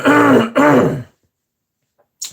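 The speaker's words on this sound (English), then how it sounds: "that is not a great cough" A single person clears their throat in two rough, voiced bursts close to the mic, followed by quiet and a tiny click at the end.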